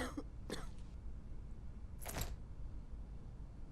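Characters in the video game Quarantine Zone: The Last Check cough in short, sharp bursts, a couple at the start and a louder pair about two seconds later, faint and close against a low background hum.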